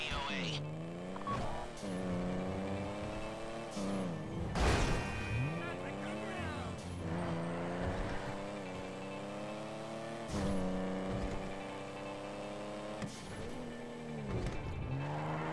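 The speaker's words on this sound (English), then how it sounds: "That's Sean's car" A car drives in GTA V Online, its engine droning and shifting pitch with revs over continuous game sound, while voices talk over it.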